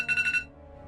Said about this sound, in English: That was the alarm, hopefully it wasn't too loud